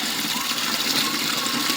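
Water fills a container at home with a steady, close, rushing gush that continues without a break.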